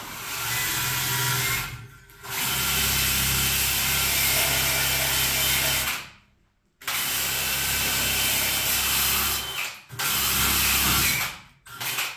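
A loud power tool grinds away spot welds on the steel body of a 1976 Chevy K10 square-body truck. It runs in long, steady stretches broken by several brief stops, close and harsh.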